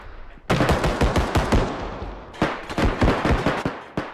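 Close, loud automatic gunfire exchange in the shooter Bodycam: two rapid bursts of repeated cracking shots separated by a short lull, with no talking over them.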